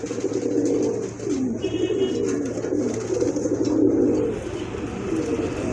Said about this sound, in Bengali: মাশাআল্লাহ কবুতরগুলো কিন্তু অনেক সুস্থ আর হেলদি কবুতর